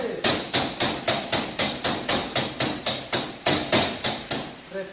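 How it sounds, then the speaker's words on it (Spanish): A hammer strikes a welded metal tube on a handmade decorative door arch to settle weld slag, about fifteen sharp, ringing blows in a steady, even rhythm, loud and close with a brief metallic decay after each hit. "esos golpes son para que la rebaba se acomode y no la tengas que limpiar"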